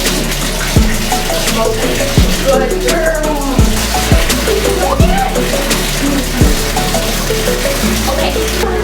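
Water runs steadily from a tap while a dog is bathed indoors, a constant close splashing hiss with someone speaking soothingly to the dog over it.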